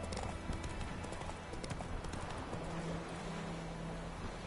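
Roach, Geralt's horse in The Witcher 3, trots with steady clip-clopping hooves, rhythmic and fairly close, under a busy game background with a faint tonal hum later on.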